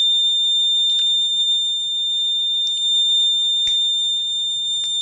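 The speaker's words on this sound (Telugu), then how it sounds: "చూడండి, బజర్ కూడా వస్తుంది." A PID temperature controller's alarm buzzer sounds as a continuous high electronic whine, with a few faint clicks and a low background hum beneath it.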